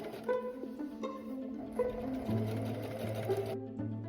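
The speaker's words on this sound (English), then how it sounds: "here I'm doing a little bit of decorative top stitching just to help keep the fabric crisp" A sewing machine runs decorative top stitching on fabric for Victorian costume trousers, whirring in short bursts with rapid needle rhythm, close and fairly quiet, pausing briefly between runs.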